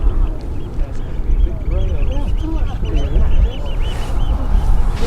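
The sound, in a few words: bird calling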